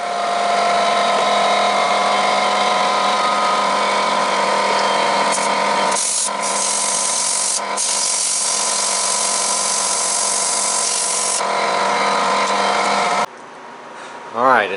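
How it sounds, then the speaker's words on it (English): An air compressor or tire inflator hisses steadily and loudly while filling the rear tire of an old Craftsman riding mower, with brief dips in the flow before it cuts off near the end. "We'll try to air up that rear."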